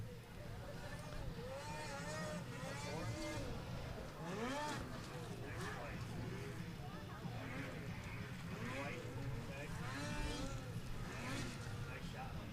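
Race cars in a plus-30 class lap an ERX Motor Park track on the final lap, heard as a constant distant engine drone with rising and falling revving passes, while a commentator talks over it.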